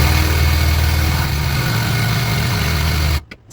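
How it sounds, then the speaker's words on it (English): A power drill runs at full speed while working on a broken lift pulley of a 1973 Starcraft Starmaster 8 pop-up camper, giving a loud, steady whirring hum that cuts off abruptly near the end. "drills only really work when they're going full speed"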